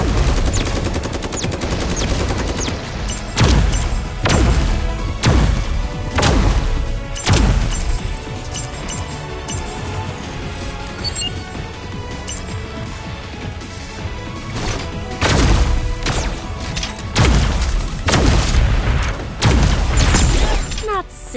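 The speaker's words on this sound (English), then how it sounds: "Shots heard!" Rapid gunfire and heavy explosive crashes from the Super Mecha Champions mech battle game, loud and continuous, with dense bursts of automatic fire and repeated blasts stacking over the whole stretch.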